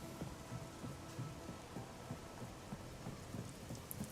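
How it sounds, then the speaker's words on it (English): Rain falling in the Star Wars Outlaws video game, a quiet, steady patter with soft low rumbles, heard alone without voices. "Oh, it's raining too."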